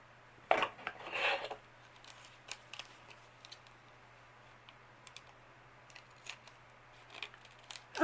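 Scissors snipping cellophane for a handmade tag, a couple of crisp cuts near the start followed by faint scattered clicks and handling noise, close and quiet over a steady low hum.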